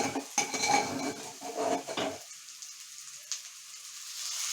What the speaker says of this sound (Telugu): ఈ వెజిటేబుల్స్ దాంట్లో మంచిగా మిక్స్ చేసుకోండి